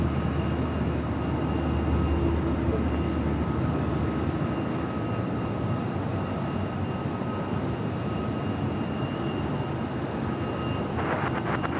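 A Lufthansa heavy jet, flight 457 bound for Frankfurt, departs runway 25 right at Los Angeles International Airport, producing a steady, distant broadband roar that persists for the whole stretch with no voices.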